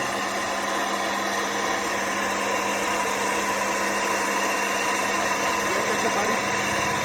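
A 2 HP tabletop domestic atta chakki flour mill runs with a steady, loud mechanical whir and hum that stays unbroken and close throughout.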